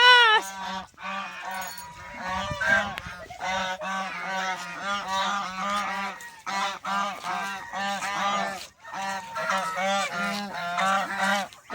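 A flock of domestic ducks calls nonstop at close range, with loud overlapping honks and quacks coming in dense bursts and brief lulls, and no talking.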